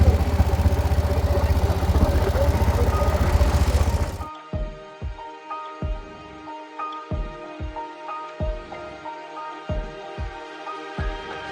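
A private boat's engine on a river ride in Benaras: a loud, rough roar for about four seconds, then a quieter, steady run of evenly spaced thumps, close by and without talking.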